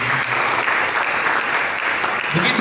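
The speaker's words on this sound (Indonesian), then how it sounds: "Berikan tepuk tangan bagi Yesus" A church congregation applauds for Jesus during a sermon, a loud, dense, continuous wash of many clapping hands close up that fills the whole stretch.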